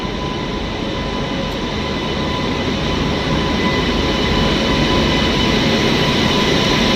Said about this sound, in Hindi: एक और मालगाड़ी।